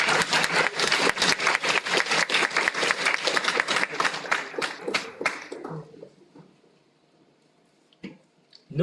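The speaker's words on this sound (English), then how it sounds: "You can clap if you want to" Audience applause at a React developer meetup in Melbourne, dense clapping lasting about five seconds before fading out into near silence, with a brief faint sound near the end.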